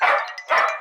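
Two loud, close dog barks come in quick succession with a short gap between them, and there is no other sound.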